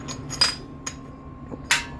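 Hand-made stencil plate being struck with a hammer: a few sharp, isolated metallic taps spaced irregularly against a quiet background.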